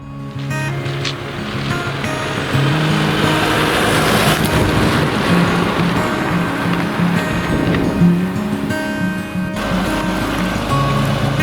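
Steady, loud vehicle drive on a farm visit, a broad low rumble with wind buffeting the microphone throughout, no voices.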